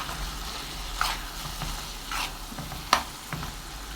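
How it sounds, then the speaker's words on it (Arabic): Tomato paste and spices frying in a pan while being stirred: a continuous crackling sizzle broken by several sharp spoon scrapes and knocks, close and fairly loud, with no talking. "قلبيها بين ما اجيب بهاراتها"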